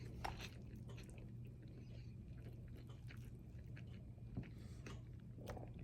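A mouthful of rice, chicken and beans with a creamy white sauce being eaten, heard as faint close-up wet chewing and soft biting over a steady low background hum.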